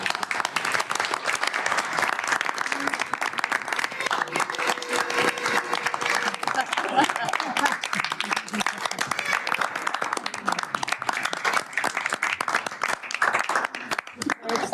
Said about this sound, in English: Maybe give the staff a round of applause.